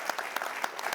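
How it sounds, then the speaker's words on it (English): Audience applause at a healthcare conference, a short burst of close, dense clapping with sharp individual claps rising at a steady uneven rhythm, moderately loud throughout. "Maybe one last round of applause."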